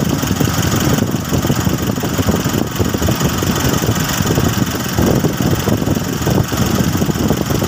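A car engine idles close by in a steady, dense low rumble with slight vibration, constant and unbroken throughout, with no one speaking.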